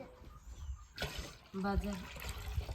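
Water is poured from a small metal pot for lemon water, a brief trickling splash after a soft knock, faint and close with background voices.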